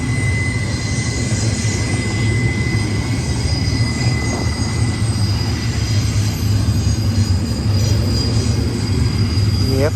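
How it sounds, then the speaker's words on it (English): A Z-series intermodal freight train loaded with priority containers rolls past on a curve, a steady loud rumble of wheels on rail with a thin high squeal running throughout. "Yep, it's a Z train."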